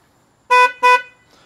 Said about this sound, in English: Let's test the horn